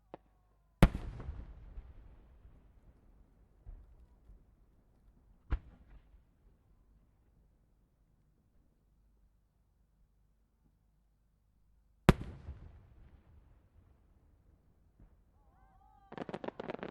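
Fireworks at the Omagari fireworks festival in Japan: a few sharp, distant-sounding booms separated by long quiet gaps, with a burst of crackling at the end.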